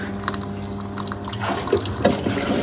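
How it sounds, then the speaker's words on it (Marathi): Water streams steadily but more weakly than normal into a washing machine from its inlet after a repair, a close, continuous splashing flow with small drips and gurgles throughout. "फायनली पाणी आलं वॉशिंग मशीनमध्ये"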